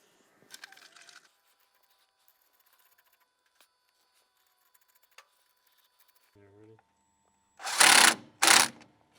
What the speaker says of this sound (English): when you're tightening them ones with this rattle gun, you don't want to tighten them hard, just a little bit until they start to click